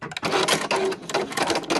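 A sewing machine sews elastic into the end of a towelling headband in a short, fast burst of rapid, close, even stitching.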